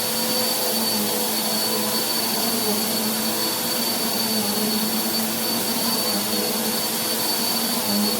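A Bissell PowerForce Helix upright vacuum cleaner running on carpet drones loudly and steadily throughout, with a constant high whine over a broad rushing hiss.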